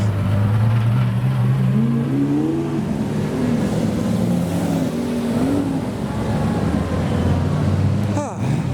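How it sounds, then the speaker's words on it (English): A McLaren F1 GTR race car drives on a public road, its engine droning steadily with rising and falling pitch throughout, with a brief sharp burst near the end. "a McLaren F1 GTR driving on the public roads"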